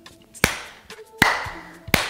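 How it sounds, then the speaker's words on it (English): Three sharp, evenly spaced hand claps during a children's ballet lesson, close and distinct against a quiet room. "Clap with me."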